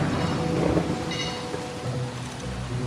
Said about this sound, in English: The wind blew and the rains pounded down.